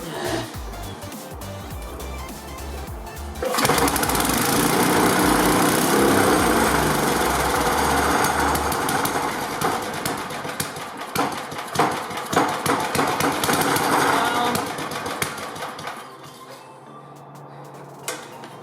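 An 1988 8hp Briggs and Stratton Sno-Guard snowblower engine fires up and runs roughly, loud and close, with a rattling, uneven roar that wavers and sputters before cutting out near the end.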